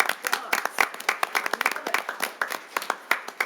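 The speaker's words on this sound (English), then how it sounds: "Yeah, round of applause." Applause at a city council meeting, a scattered round of clapping with uneven, separate hand claps rather than a dense roar, fairly close and steady for a few seconds.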